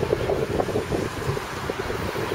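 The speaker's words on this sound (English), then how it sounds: "Ooh, the wind's up." Wind gusts outdoors in South Wales near Caerphilly Mountain, a steady, close rumbling buffet on the microphone with shifting low-mid surges across the whole stretch, no voices.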